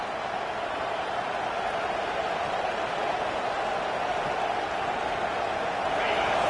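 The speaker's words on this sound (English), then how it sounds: "This crowd, full throat, splitting the eardrums and letting them know it's going to be a long day" A stadium crowd at a football game roars in a dense, continuous wash of noise that stays loud and steady throughout, swelling slightly at the very end.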